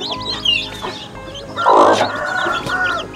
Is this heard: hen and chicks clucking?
yes